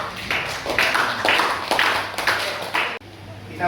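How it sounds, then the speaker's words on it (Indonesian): Hands clapping together in a classroom in a quick, steady rhythm of repeated bursts, loud and close, stopping abruptly near the end before a low murmur carries on. "yuk, tepuk tangan untuk"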